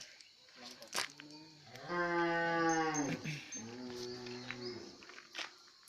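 Calves mooing at Hà Quảng, two drawn-out lowing calls, the first long and rising, the second shorter, close by amid faint rustling and background sounds.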